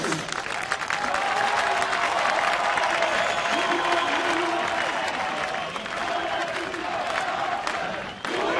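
A crowd of Iranian protesters at a New York rally against Rouhani's visit applauding steadily for several seconds, sustained clapping with some crowd noise beneath.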